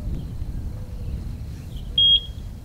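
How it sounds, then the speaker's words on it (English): A single short, high electronic beep from a Eufy 4G LTE Cam S330 security camera syncing rings out clearly near the end over a quiet background hum. "Hold it for about 4 seconds until you hear it beep"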